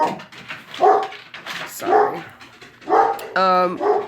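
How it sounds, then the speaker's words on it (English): Dogs barking in a room while someone talks, the barks coming in short bursts between her words, with one clear, loud bark near the end. "sorry about the dogs"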